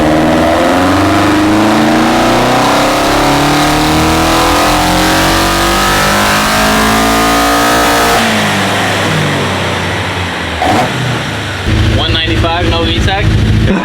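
A K-swapped Toyota AE86 on a dyno makes a loud, sustained engine pull, the pitch climbing steadily for several seconds before cutting off, then a brief idle and a few short revs.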